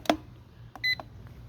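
An oven's control panel gives a short electronic beep as it is switched on, a clear single tone amid faint clicks and handling noises.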